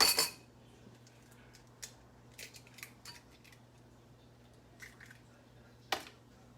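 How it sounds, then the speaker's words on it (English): Scattered light clinks and taps of utensils and a bowl as gluten-free lemon blueberry scone ingredients are combined, with a louder knock at the start and another near the end, close and otherwise quiet. "So we're going to combine them in this bowl here."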